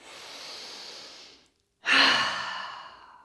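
Yoga breathing: a long, soft breath through the nose, a short pause, then a deep, forceful exhale through the mouth that trails off, close and with no talk.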